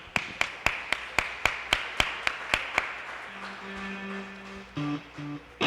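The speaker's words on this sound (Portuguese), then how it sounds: "As palmas louvam ao Senhor." A congregation claps in praise during a live church service, about a dozen sharp, evenly spaced claps at a steady rhythm. A faint voice and some musical tones follow as the clapping stops.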